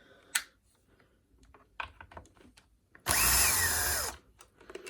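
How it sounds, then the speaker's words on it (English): A screwdriver, likely a small powered one, backing screws out of a Kirby G4 vacuum cleaner during repair: scattered clicks and taps, then about one second of loud, close whirring. "here comes the part where we have to start taking off screws"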